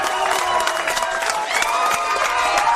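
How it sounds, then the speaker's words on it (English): Football crowd at a South Hobart versus Kingborough Lions NPL match cheering and celebrating a goal, a steady loud roar of voices with shouts and whistles running throughout. "And the crowd and the South Hobart team celebrate with aplomb"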